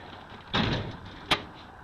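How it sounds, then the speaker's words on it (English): The door of a 1987 Ford E150 4x4 van with badly sprung hinges opens, a close scraping creak of metal followed by a short sharp clunk. "This door does open, but it is sprung terrible."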